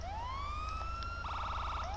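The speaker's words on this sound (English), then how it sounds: "We got the sirens, of course." A police car siren in the video game GTA wails in a long rising sweep, then switches to a rapid, pulsing yelp before climbing again. It is loud, close and steady, with no talk.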